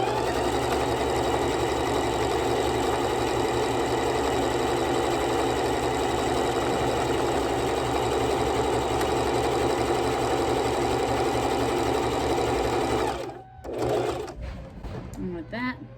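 Sewing machine stitching a buttonhole in thick wallet fabric: a steady, fast mechanical whirr with rhythmic needle knocking that runs for most of the stretch, then stops abruptly and gives way to a few brief handling noises.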